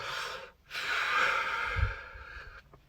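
One long, slow exhale through tensed lips, a breathy hiss held for about two seconds after a short initial breath, close and clear with no talk.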